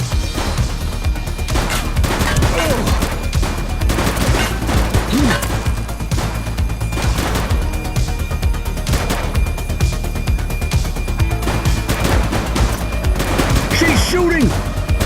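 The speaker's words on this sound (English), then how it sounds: "She's shooting!" Gunfire in the police game The Precinct cracks out in dense, repeated shots and bursts over a loud, steady background, with voices calling out under the action.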